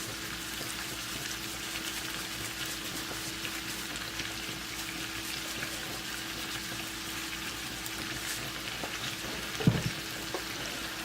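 Chicken sausage stir fry sizzles quietly in a pan with a steady, soft crackle throughout, broken by a brief clatter near the end.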